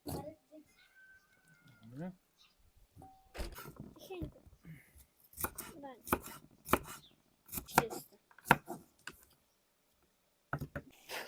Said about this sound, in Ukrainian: Перчик. Нарізаємо.